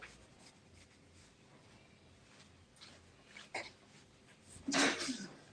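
A short, sharp sneeze bursts out near the end after a few quiet breaths and small rustles, fairly close.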